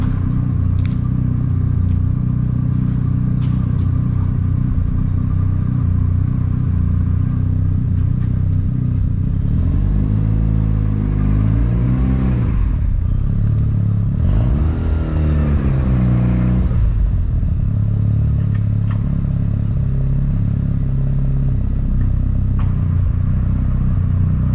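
A Mazda RX7 engine idles steadily with a deep, continuous rumble, close and loud, with a couple of brief rises in revs partway through and no talking.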